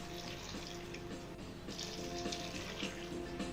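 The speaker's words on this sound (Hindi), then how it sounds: "2 गिलास पानी डाल दिया है।" Two glasses of water poured into a wok of washed plums for a fresh plum chutney, a steady close splashing stream that runs the whole time with no talk over it.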